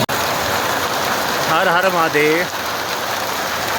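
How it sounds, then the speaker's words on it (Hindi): Heavy rain pours steadily at Chandanwari on the Amarnath pilgrimage trail, a dense continuous hiss filling the scene, with a brief chanted voice rising over it midway. "इस टाइम बारिश बहुत तेज़ चालू हो चुकी है"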